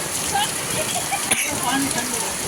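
Loud, constant rainfall roars close by as people bathe in it in India, with a brief sharp knock partway through and faint voices buried under the downpour.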